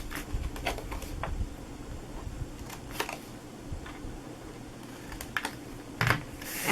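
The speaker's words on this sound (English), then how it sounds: "So I'm going to just cut off, just like I did, the little tabs here." Scissors snip tabs off a clear acetate sheet while assembling a Fourth of July firecracker treat box, giving sparse, light clicks and rustles close by with no talk.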